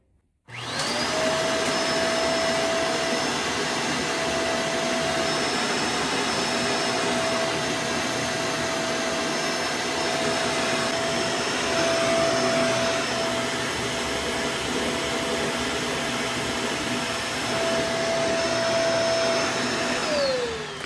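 A Kenmore Intuition vacuum cleaner with its power nozzle, after a split hose repair, switches on and runs as a loud, steady whining drone for about twenty seconds, then spins down at the end.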